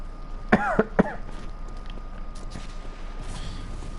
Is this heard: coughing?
yes